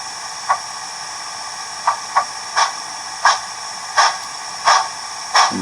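A Bachmann 2-8-0 model steam locomotive with DCC sound coasting, its chuff shut off. A steady hiss runs throughout, broken by short, soft, irregularly spaced bursts roughly every half second to second.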